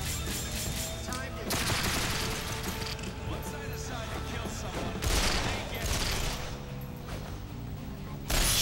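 Rapid bursts of video game gunfire from Resonance of Fate, dense crackling volleys with sharp louder blasts near 1.5, 5 and 8.5 seconds, alongside faint game effects.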